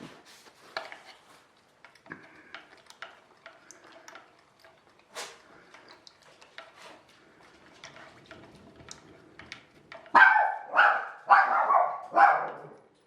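Several dogs in a home bark in short bursts, with scattered yaps early on and then a cluster of loud, close barks near the end. Light ticking sounds come through between them.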